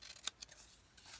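Scissors snip through paper being trimmed for a handmade cathedral window notebook: a couple of quick, faint, crisp cuts close by in an otherwise quiet room, with no one talking.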